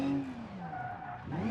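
A rally car in a racing video game skids under the handbrake: a brief engine note falls, then a tire squeal or slide follows before revs climb again, moderately faint and heard without talk.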